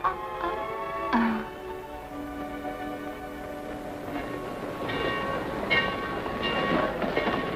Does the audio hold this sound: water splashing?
no